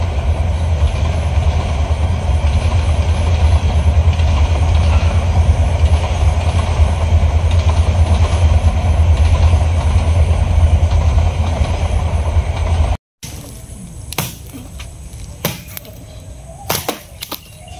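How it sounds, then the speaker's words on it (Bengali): A long train rolls past close by with a loud, continuous heavy rumble and rattle for about thirteen seconds, then cuts off abruptly to quieter surroundings with a few scattered clicks and knocks. "আজকে ট্রেনটা অনেক লম্বা, অনেকটা লম্বা অন্য দিনের তুলনায়।"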